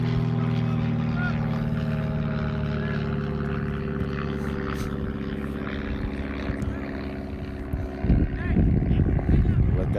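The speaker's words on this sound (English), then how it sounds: "Let that small plane get overhead and get done making noise" A small propeller plane drones overhead at a men's college soccer game, a steady low engine hum with harmonic bands that persists throughout, briefly joined by a louder burst of nearby noise near the end.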